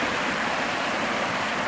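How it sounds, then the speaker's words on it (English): A river rushes steadily at a backpacking river crossing on a highland trail in Algonquin Park, a dense, even broadband rush heard close with no voices. "I have my first real river crossing here."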